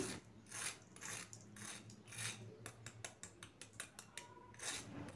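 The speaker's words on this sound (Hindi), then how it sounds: "इनकी ज़रा क्रिस्पीनेस की आवाज़ सुन लीजिए" A series of crisp, crackly crunches of fried peri bites, irregular then quicker toward the end, close by with no talking.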